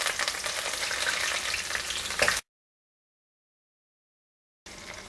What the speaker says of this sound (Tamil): இப்போ எடுத்து வச்சுருக்கிற சின்ன வெங்காயம் சேர்த்துட்றேன்.